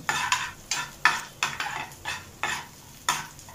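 Chopped onions hitting a pan of frying paneer 65, with a close, repeated rhythm of stirring scrapes over a steady sizzle.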